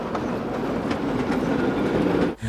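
A tram rumbles past on a street in Vinnytsia, Ukraine, a steady loud rolling roar with faint rhythmic wheel clatter, cutting off abruptly near the end.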